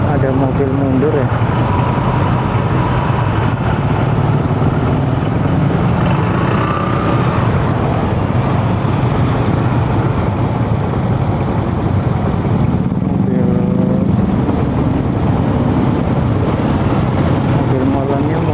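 A concrete mixer truck reverses along a damaged, sunken road, its engine rumbling steadily and loudly throughout with occasional tonal whines riding over it, while nearby voices come and go.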